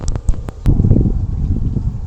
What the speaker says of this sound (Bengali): হাওয়াতে একদম আগুন পুরো বাইরে চলে আসছে